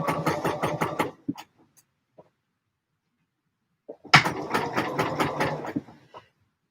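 Sewing machine stitching a McCalls 7537 garment, running in a steady rapid burst for about a second, then a pause broken by faint clicks, then a second longer run of about two seconds, close and clear.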